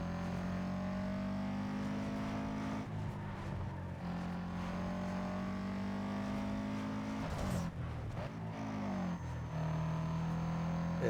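A Subaru in Need for Speed Underground 2 drones close and loud, the engine holding steady revs, then easing off and climbing again.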